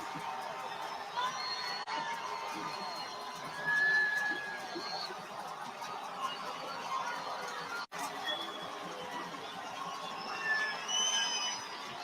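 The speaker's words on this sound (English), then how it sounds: "Here comes that crowd is getting loud" A football stadium crowd at a Vikings game swells into a loud, steady roar of cheering and shouting around a fourth-down play, heard from a distance with scattered whoops.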